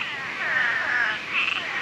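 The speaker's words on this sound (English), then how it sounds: "it makes literally hundreds of thousands of frogs a year" Frogs croak in a natural pond, likely a sinkhole, forming a steady close chorus of trilling, buzzing calls that rise and fall in waves without pause.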